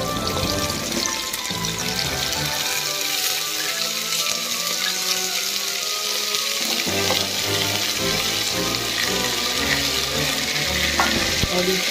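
Chickpeas (chana) fry loudly in a hot pan for the Daba-style dish, a steady close sizzle running the whole time with scattered crackles and light stirring, no talk over it.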